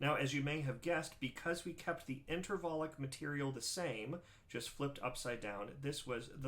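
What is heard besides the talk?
None of the usual background noises is heard.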